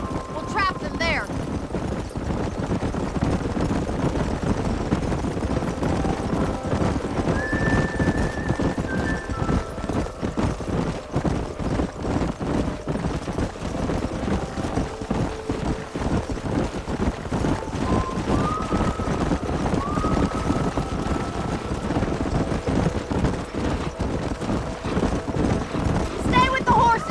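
Horses in the Red Dead Redemption video game canyon drive, hooves clip-clopping in a steady rapid rhythm throughout, with occasional whinnies and brief spoken lines heard over the galloping.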